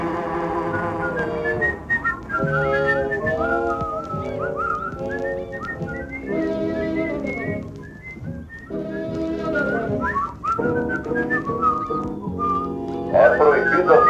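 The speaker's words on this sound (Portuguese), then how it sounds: "É proibido assobiar no recinto." A person whistles a continuous, wandering melody with pitch glides and short gaps, close and fairly loud, running throughout without speech.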